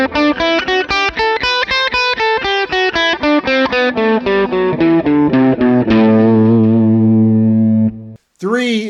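A distorted electric guitar plays an even sequence of single notes up the A Dorian scale, ending on a sustained ringing note that decays.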